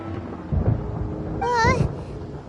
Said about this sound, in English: Where is the storm headed?